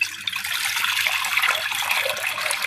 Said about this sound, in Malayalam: ഇത് നിറയെ വെള്ളം വെക്കണം കേട്ടോ.